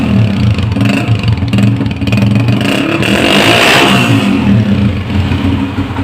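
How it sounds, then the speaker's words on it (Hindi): A 2013 Honda CG 125 motorcycle idling and revving inside a shop, its single-cylinder engine and silencer exhaust giving a loud, close, throbbing putter that swells with a throttle blip midway. "साइलेंसर का साउंड मैं आपको चेक करा देता हूँ।"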